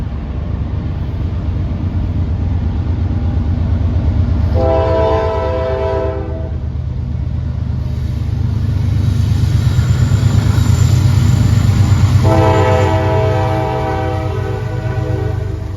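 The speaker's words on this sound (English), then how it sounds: "It's coming, it's going to blow any second. The train is right behind my shop here." A train rolls past right behind a shop, a steady loud rumble of rail cars underneath two long horn blasts, the first lasting about two seconds and a second one sounding near the end.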